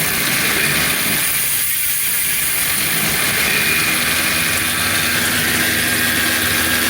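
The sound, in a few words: EuroBike G4 modified e-bike motor under throttle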